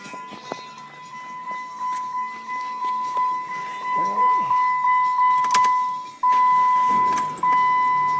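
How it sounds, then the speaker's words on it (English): A 2006 PT Cruiser with freshly changed spark plugs cranks and starts, its engine building in rhythmic surges before settling into a steady idle, with a constant tone and keys rattling close by. "Now we're going to try to start it."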